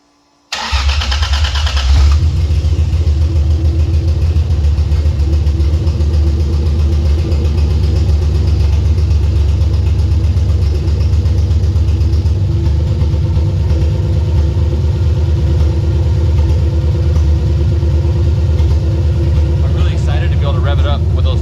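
A drift car fitted with an HKS muffler cranks and fires up, then settles into a loud, steady, deep idle rumble close by. Late in the clip there are a few faint clicks and rattles.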